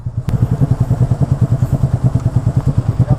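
Engine of a Keeway Cafe Racer 152 motorcycle on a ride to Gulod in Tanay, Rizal, running with a steady rapid low pulsing throb, loud and close, without voices.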